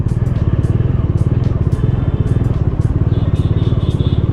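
A Bajaj Dominar 400 BS6 motorcycle jerks while riding in first gear, its engine putting out a loud, close, rapid and steady pulsing thump with a rough, uneven edge throughout.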